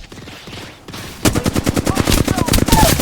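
Rapid bursts of automatic gunfire in Apex Legends, a quiet stretch of faint shots giving way at about a second in to a loud, sustained stream of closely spaced shots that runs to the end.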